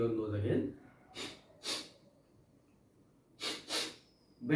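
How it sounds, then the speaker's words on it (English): After a jal neti nasal rinse, a person blows their nose in several short, sharp bursts close up, with quiet pauses between them and a brief voice at the start. "Just blow your nose again."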